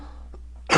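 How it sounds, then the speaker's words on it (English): A short throat-clearing cough from someone with a cold, abrupt and close, preceded by faint small sounds. "I'm coughing again."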